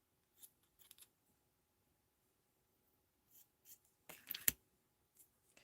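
Ribbon being cut down the middle with scissors, a few faint snips and rustles in quiet, with a louder burst of cutting near the end.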